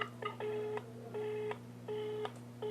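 A phone places a prank call, giving off repeated electronic tone bursts, each about half a second long, in a steady beeping pattern over a low constant hum. No voices are heard.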